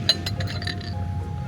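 Glasses clink together in a toast, a few quick bright chinks close by, with low room noise underneath.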